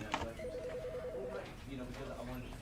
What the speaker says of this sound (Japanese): 電話の音がね、するんですよね。